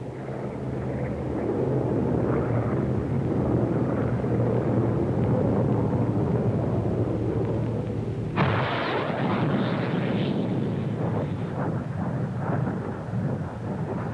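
Hawker Hunter 66A jet flying low along the runway at near the speed of sound during a Farnborough air show, a loud, continuous roar that suddenly turns harsher and brighter midway and then fades slightly.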